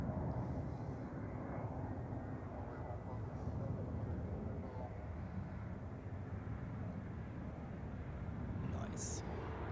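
An Edelweiss Airbus A350 lands at Zurich Airport, heard as a broad, steady jet roar close by that holds for several seconds without letting up.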